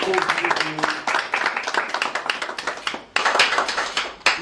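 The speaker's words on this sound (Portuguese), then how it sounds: "Peço bem para ver uma salva de palmas aos premiados" An audience applauds prize winners of a photography contest at a ceremony in Cape Verde, with dense, steady clapping throughout, a brief dip near the end, then renewed clapping.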